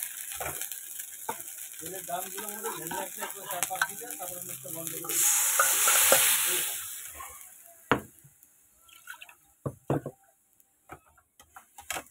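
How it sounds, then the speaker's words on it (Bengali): Boiled dal poured into a hot pan of lau shak with cumin and ginger paste, a loud sizzling burst in the middle followed by scattered stirring clinks and scrapes. "এবার দিয়ে দেবো ডালটা, সেদ্ধ করে রাখা ডালটা"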